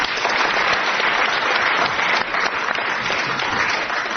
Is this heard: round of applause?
yes